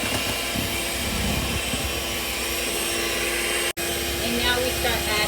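An electric mixer beats egg yolk into a frothy batter for shrimp torrejas, giving a steady, close motor whir that runs almost the whole time with one brief cut near the end.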